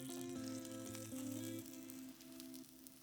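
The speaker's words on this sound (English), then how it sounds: "The only reason why you're doing this is to brown the tortilla and cook the cheese on the inside." A tortilla wrap filled with cheese browns in a pan, giving a soft, continuous sizzle beneath steady tonal background music.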